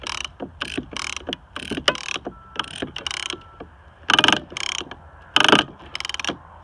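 A ratchet strap is cranked tight around stone slabs, its close, sharp clicking coming in uneven bursts of rapid ratchet strokes with brief pauses between them.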